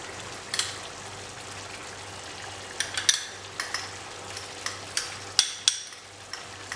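Almond paste is stirred into chicken angara curry in a pan, with a soft steady simmer beneath a series of light, irregular spoon scrapes and clinks, close and fairly quiet.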